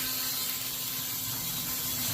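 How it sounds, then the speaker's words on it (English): A Brush Hero hose-powered scrubber runs with its motor turning, a steady, loud whirring hiss under rushing hose water that stays constant throughout. "You can still hear the motor turning in there, and the end actually is turning"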